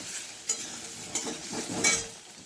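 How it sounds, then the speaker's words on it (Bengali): Pointed gourd, potato and soybean fry with salt and turmeric in a pan, a soft continuous sizzle broken by three distinct scraping stirs of a utensil, close and quiet with no voices. "তো পটল আলু সয়াবিন ভাজতে দিয়ে দিয়েছি অল্প নুন হলুদ দিয়ে"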